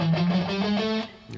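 Distorted electric guitar plays a quick chromatic sequence pattern, a short run of rising notes that is loud and close, with a slight dip near the end.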